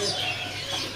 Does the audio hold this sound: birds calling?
yes